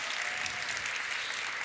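A church congregation breaks into a burst of clapping and cheering, a dense, steady wash of applause from a full room that lasts the whole moment with no break.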